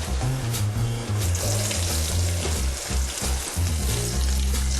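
Chopped onion hitting hot cooking oil in a frying pan, a loud, steady sizzle that holds throughout with a few stirring scrapes, close and alone without talk.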